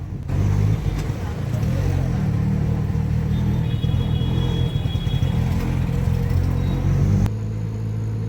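An auto rickshaw carries four passengers from Kankavli railway station to the bus stand in Konkan, its engine giving a steady, close, low rumbling drone throughout with road noise and no talk.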